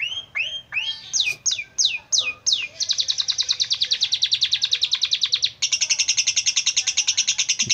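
A lovebird sings a long canary-style song, opening with separate rising chirps that merge into a rapid, steady trilling run with a brief pause, loud and close.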